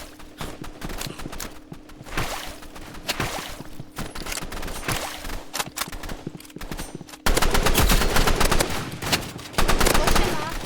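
Rapid bursts of automatic gunfire in an online multiplayer shooter, dense rattling volleys that continue almost without pause and grow louder and harsher toward the end, with no talking over them.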